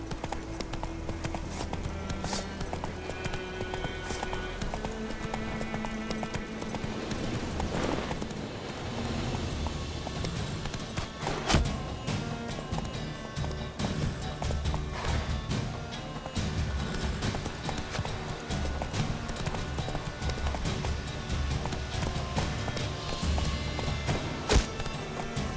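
Roach the horse gallops in The Witcher 3, a steady stream of clip-clopping hooves with occasional thumps running throughout, loud and close, alongside in-game music.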